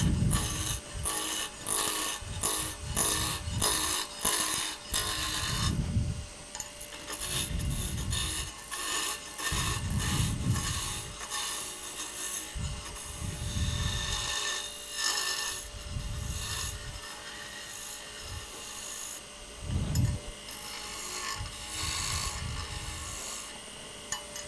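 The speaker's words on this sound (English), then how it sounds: "I can go ahead and rough this down with a 3/4 inch skew." A 3/4 inch skew chisel roughs down wood spun between centers on a lathe, giving a loud, continuous rasping scrape with repeated bursts as the tool sweeps along the blank, with no talking.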